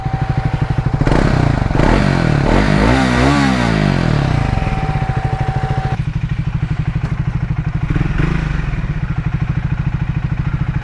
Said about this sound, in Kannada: ಸೊ ಎಕ್ಸಾಸ್ಟ್ ನೋಟ್ ಕೇಳೋಣ, ಬನ್ನಿ ಸ್ಟಾರ್ಟ್ ಮಾಡೋಣ